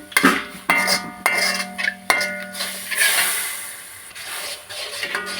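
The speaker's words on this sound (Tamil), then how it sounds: "அதையும் நல்லா கிண்டி விடணும்." Papaya juice mixture stirred in a metal cooking pot: a handful of clanking ladle strikes and scraping rubs against the pot, close and fairly loud, with no one speaking.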